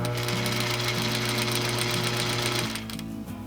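A sewing machine runs a rolled hem around a curve, a close, steady motor hum and fast rhythmic needle clatter that eases and slows near the end.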